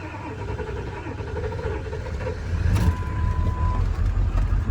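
A Ford 7.3 Powerstroke diesel truck engine with no glow plugs cranks and catches, a low rumbling growl that grows louder midway through, with a brief steady tone partway in.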